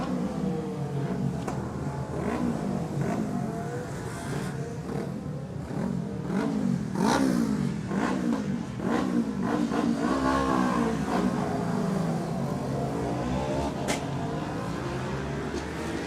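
Darrell Tweed's Honda Fireblade racing motorcycle laps the Cookstown Orritor road circuit, its engine roaring steadily and loudly while the pitch rises and falls through gear changes and throttle shifts.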